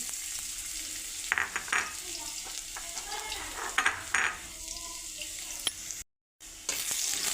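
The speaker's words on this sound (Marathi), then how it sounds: "तेल गरम झालं. लसूण घालून घ्या." Garlic frying in hot oil in a pan for an Indian masala pasta, crackling and sizzling up close with several scraping stirs of a spoon and a brief silent gap near the end.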